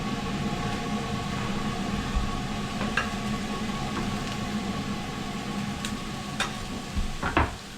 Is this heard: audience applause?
no